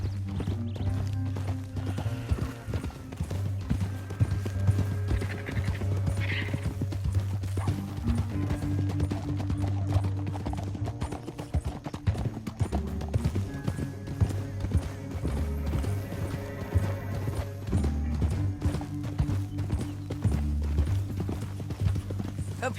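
Horse hooves gallop in Red Dead Redemption 2, a steady rapid clip-clop that runs for the whole stretch, close and fairly loud over a continuous game music bed.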